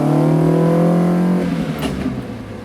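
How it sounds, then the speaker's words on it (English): A car with a 2-liter Nord engine revs loudly and steadily up close, then drops off as the revs fall away. "That is the 2-liter Nord engine."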